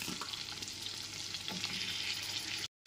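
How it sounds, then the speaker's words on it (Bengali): Red, yellow and green capsicum pieces fry in melted butter with a steady, dense sizzle that holds throughout, then cuts out briefly near the end. "এরপর এতে কেটে রাখা ক্যাপসিকামের টুকরোগুলোকে দিয়ে দিচ্ছি। রেড, ইয়েলো আর গ্রিন ক্যাপসিকামগুলোকে দিয়ে দিলাম।"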